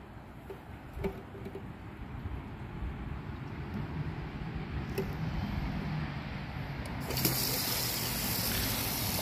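A broken 1999 Kohler Portrait Lite toilet flushes, a steady gushing rush of water that builds and swells louder toward the end, heard close up with no voices.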